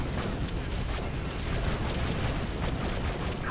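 Y-wing bombs exploding in the Star Wars Battlefront video game, a steady rolling wash of blasts and rumbling booms at moderate loudness, dense and continuous across the stretch with no clear gaps.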